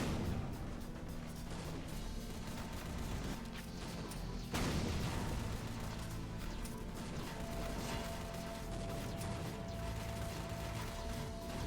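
Rocket impacts and blasts in the video game The Battle Bricks, with a sharp crashing hit mid-clip over a steady din of mechanical clatter and gunfire-like game effects, no talking.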